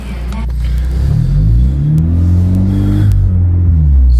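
A Renault Megane 4 RS fitted with an upgraded Helix clutch and lightweight flywheel pulls away and accelerates, its engine note rising loud and close from inside the cabin with a deep rumble.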